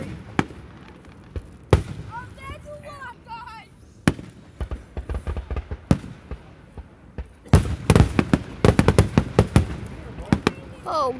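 Fourth of July fireworks burst in loud, scattered bangs with crackling, reaching a dense volley of rapid explosions near the end, while people talk and exclaim nearby.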